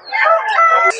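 A rooster gives a short, loud, close crow at a busy poultry market where chickens are sold.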